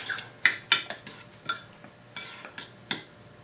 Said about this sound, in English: Stir that in a bit.